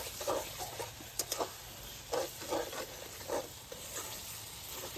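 Egg and onion curry cooking in a pan after a pinch of sugar is added: a soft, low sizzle with irregular bursts of stirring and scraping, fairly quiet and close, with no voices.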